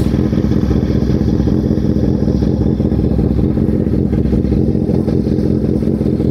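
A 2024 Honda CB650R with an aftermarket Orion exhaust rumbles loudly up close, a deep, bassy, steady engine note holding throughout with no talk.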